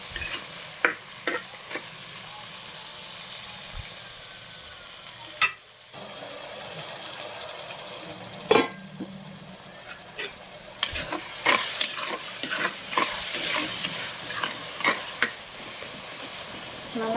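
Tomatoes sauté in a pan for a coconut-milk fish curry, giving a soft continuous sizzle broken by repeated scraping stirs of a spoon against the pan, heard close at low volume.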